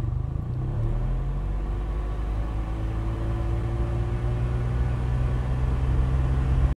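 Interior perspective of a Nissan SUV engine, a loud, steady low rumble with droning harmonic tones held evenly throughout before cutting off abruptly at the end.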